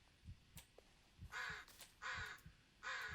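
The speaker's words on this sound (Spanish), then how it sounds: "La madre que le parió al puto cuervo. Lo tengo encima, tío." A crow in the Blair Witch video game caws three times in loud, harsh calls at an even rhythm, heard alone with soft thuds and rustles between the calls.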